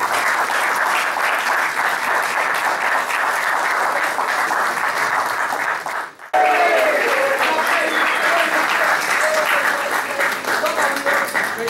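Loud, sustained applause from a crowd farewelling a football team at its squad presentation ahead of the Copa Simón Bolívar, steady throughout with a brief dip midway before resuming, voices faintly mixed in.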